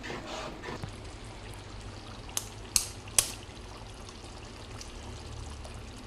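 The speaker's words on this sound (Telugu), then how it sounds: "ఇప్పుడు ఇంకా మనం ఎగ్స్ అనేవి దీంట్లో వేసేసుకుందాం" Beaten eggs poured into a simmering tomato curry, a soft continuous pouring and trickling wash with a few sharp clinks near the middle, fairly quiet and close with no talk.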